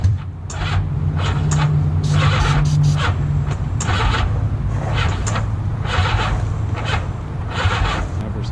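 Motorcycle engine running on a cheap bike during a long-distance ride, a steady loud drone with a low hum and repeated hissy, rough surges throughout, close and continuous.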